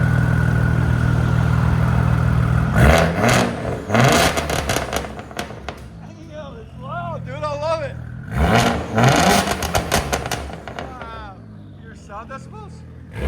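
A 2001 Audi S4 with a 2.7L V6 and a straight-pipe exhaust with no cats revs loudly in repeated bursts, settling between them, while people talk over it.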